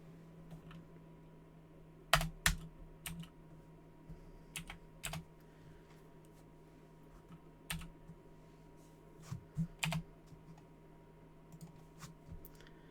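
Typing on a computer keyboard, quiet scattered key clicks in short irregular bursts against a low steady hum.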